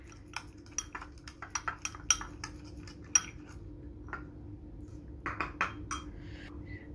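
A metal spoon clinks and scrapes against a bowl while stirring coffee into a thick paste for a coffee cake, a close, irregular run of sharp taps and clatters over a low background hum, with no voices.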